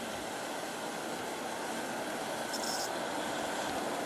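A heavily loaded G scale model train strains up a grade with a steady, dense rolling rumble and hiss. Wheels may slip as it pulls close to 100 pounds of cars. No voices are heard.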